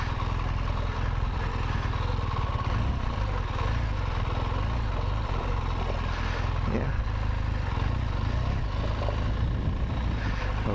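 An off-road motorcycle engine runs steadily on a hill, a loud, continuous near engine drone with slight throttle swells throughout, and some rumble from wind or terrain beneath it.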